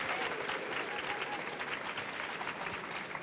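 A studio audience applauding guests on a Swiss talk show, dense, steady clapping throughout, close and fairly loud.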